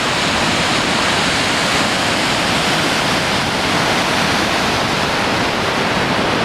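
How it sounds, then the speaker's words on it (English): The Boulder River near Big Timber, Montana, pours over a natural rock spillway in a loud, steady roar of rushing water that holds unbroken throughout, with no voices. "a lot of it actually hits this spillway, naturally created spillway, and goes on over and over the edge of the spillway right there"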